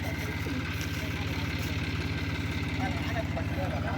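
A farm tractor, recently stuck while ploughing a field, runs steadily at close range with a continuous low, pulsing engine drone throughout, no clear speech over it.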